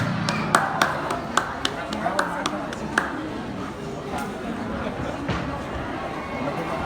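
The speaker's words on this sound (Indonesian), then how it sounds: "Baik, tepuk tangan." Scattered hand claps ring out over a noisy room with a murmuring crowd at a village event in Bali, the claps sharp at first, then thinning into background chatter.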